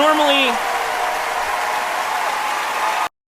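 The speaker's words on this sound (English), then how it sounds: "I know I cut off the applause here" A theatre audience applauds at the end of the musical Hamilton, a dense, loud wash of clapping with a fading sung or orchestral tone at the start, cut off abruptly.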